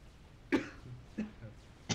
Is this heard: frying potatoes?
no